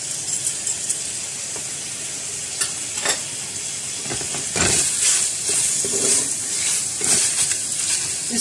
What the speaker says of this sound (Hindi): इसको अच्छी तरह से प्याज और गोश्त को इसके अंदर मिक्स कर लेना है